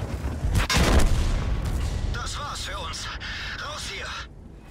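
Tank cannon shots in the World of Tanks video game, with heavy booming blasts early on, followed by rumbling battle noise and a voice speaking over the game sounds.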